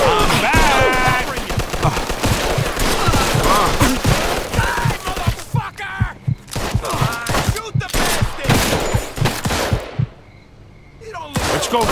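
Automatic-weapon gunfire in a Mafia II: Definitive Edition shootout: loud dense volleys and rapid bursts mixed with shouted voices, dropping briefly to near quiet before the firing resumes.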